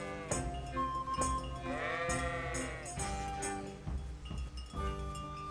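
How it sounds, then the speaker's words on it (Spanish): Goats bleat repeatedly in a medieval countryside setting in the video game Kingdom Come: Deliverance, several wavering calls overlapping at moderate distance over a dense ambient bed of game music and environmental sound. "Y cabras por aquí."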